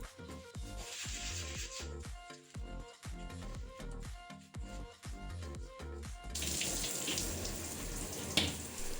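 Tap water runs steadily into a bathtub during rinsing after a citric acid and dish soap cleaning, with a choppy, splashing flow that turns into a fuller, louder gush near the end.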